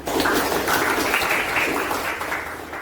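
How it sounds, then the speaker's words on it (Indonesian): Schoolchildren in a classroom clap together for the whole class, a brief, steady burst of moderately loud applause that tapers off slightly at the end. "Tepuk tangan untuk kita semua."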